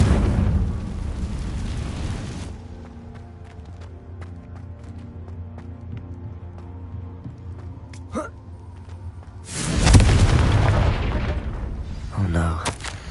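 Confringo spell in the Hogwarts Legacy video game sets off two loud blasts, one at the start and one near the end, with sharp crackling bursts between them over a low steady ambient hum.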